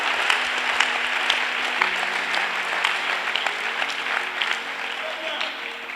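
A youth gathering audience cheers and applauds for several seconds, a steady dense patter of clapping with voices mixed in, moderately close and sustained throughout.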